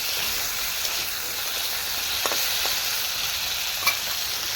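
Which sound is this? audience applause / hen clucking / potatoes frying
potatoes frying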